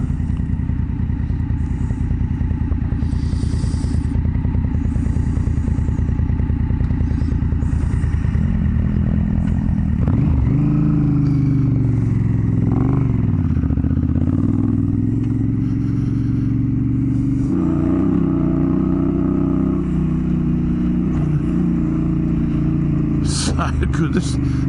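Motorcycle riding through high country, its engine droning steadily and loud throughout, with gear changes and shifts in pitch partway through as the bike climbs and revs; someone talks over the engine.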